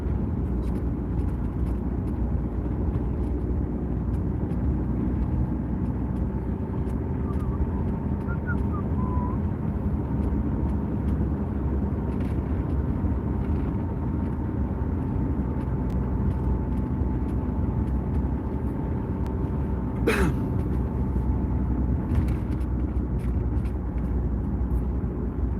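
Steady low traffic rumble heard from inside a moving car with the window partly wound up, a constant dull roar with a faint hum and one brief sharp click near the end.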